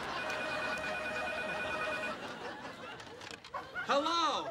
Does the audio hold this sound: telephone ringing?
yes